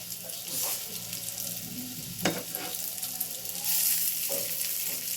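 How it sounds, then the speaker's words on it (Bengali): Mung dal pitha frying slowly in oil over low heat, a steady close sizzle with a couple of brief utensil clinks partway through. "আঁচটা কমিয়ে আস্তে আস্তে ভাজবে।"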